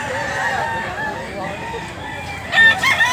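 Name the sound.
rooster crowing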